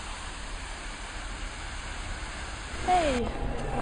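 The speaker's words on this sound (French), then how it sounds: "Et il pleut." Rain falling in a street at night in Alsace, a steady broadband hiss throughout with a brief whistle-like sound near the end.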